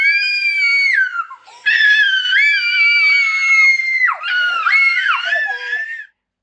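Two people scream loudly and close by in long, shrill, wavering bursts that rise and fall in pitch, with one brief break near the start and another pause before a final stretch of screaming that cuts off abruptly; no one speaks.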